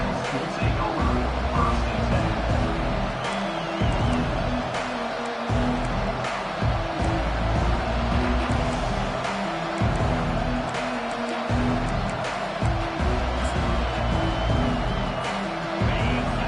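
A packed college football stadium crowd roars continuously at Alabama versus Arizona, a dense, loud wash of cheering heard from the broadcast position, with a commentator talking over it.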